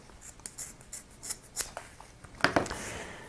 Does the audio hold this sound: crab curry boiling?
no